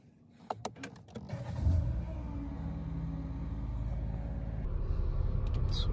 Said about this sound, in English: let's quickly start the vehicle